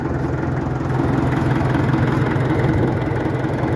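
A vintage International BTD6 crawler tractor's diesel engine idles steadily, a close, continuous low throbbing rumble with even rhythm and no talking.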